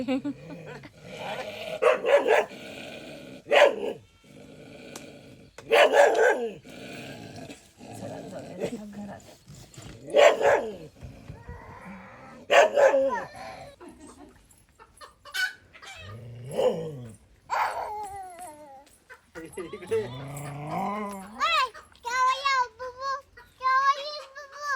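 Dogs bark in short bursts close by at a village home, mixed with clucking hens and people talking over the commotion.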